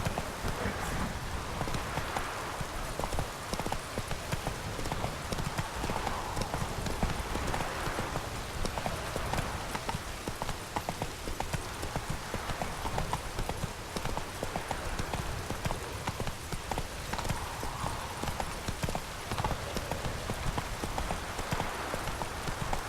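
Steady horse hooves clip-clop in a continuous trotting rhythm for a long stretch in The Witcher 3: Wild Hunt, layered over constant falling rain.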